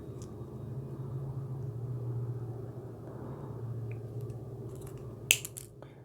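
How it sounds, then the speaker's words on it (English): Small wire cutters snip through craft wire for a beach-themed fridge magnet: one sharp, crisp click near the end, standing out over a steady low room rumble, with no talking. "Now we just need to cut it."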